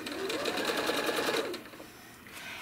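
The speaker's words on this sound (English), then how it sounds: "I'm stitching down to the beginning of the spiral." A sewing machine runs a quick burst of rapid stitching while quilting a spiral, then stops abruptly after about a second and a half, leaving quiet room tone.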